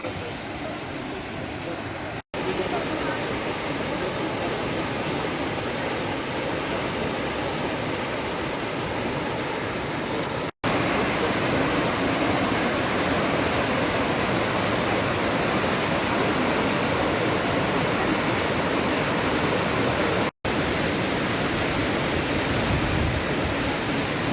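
Düden waterfall in Antalya, Türkiye roars with a dense, continuous broadband rush of falling water, loud and unbroken apart from a few brief cuts.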